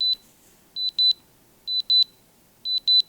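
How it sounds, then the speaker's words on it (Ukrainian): Soundcore Sleep A20 sleep earbuds in find mode, emitting loud, high electronic beeps in quick clusters of three that repeat about every second, alone against near silence. "В застосунку їх можна змусити пищати у випадку, якщо ви забули, куди поставили навушники"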